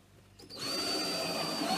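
A power drill bores a hole in a plastic container for a chicken feeder, starting abruptly after a brief quiet moment and then whining steadily and close up until the end.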